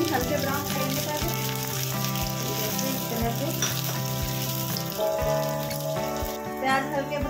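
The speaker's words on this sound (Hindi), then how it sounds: "तेल गर्म हो गया है, अब हम मिलाएंगे प्याज जो हमने रफली काट लिए हैं।" Roughly chopped onions fry in hot oil for a mushroom and pea masala, a soft steady sizzle lying beneath loud background music with drum beats and sustained tones.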